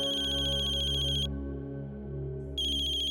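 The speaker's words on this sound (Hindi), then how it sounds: "किसका फोन है?" A phone ringtone plays as a bright, repeating electronic tone with a clear pause in the middle before it resumes, moderately loud over a low steady hum.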